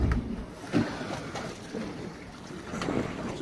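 A Māori waka canoe moving on lumpy open water off Wellington, New Zealand, with soft rushing water and wave slaps under gusty wind buffeting, a couple of louder splashes standing out, no talking.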